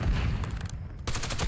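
Merrick 556 assault rifle firing in Black Ops 6, loud dense bursts of rapid game gunfire that break off for a moment and then resume.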